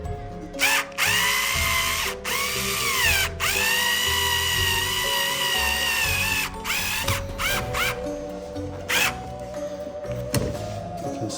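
A power drill drives a screw during a motor install on an 8-foot Home Depot spider prop, with several loud whirring bursts of varying length and brief pauses between them.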